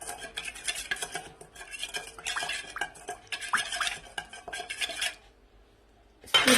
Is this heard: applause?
no